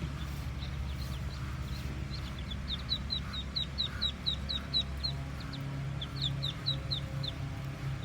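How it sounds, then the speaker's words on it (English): Baby ducks peep in a rapid series of thin, high chirps in a Florida garden, fairly faint over a steady low outdoor rumble. "Look at the beautiful baby ducks."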